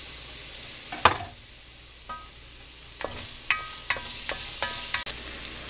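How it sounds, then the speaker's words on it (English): Garlic sizzles in a frying pan while short ribs are being braised, a steady quiet hiss broken by a few soft clicks and stirring taps with no talking. "I'm going to go ahead and add my garlic to the pan."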